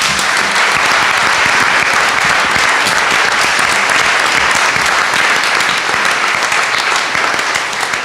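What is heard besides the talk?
audience applause for panelists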